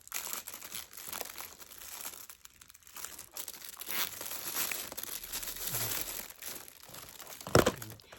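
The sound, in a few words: handling tape while making baskets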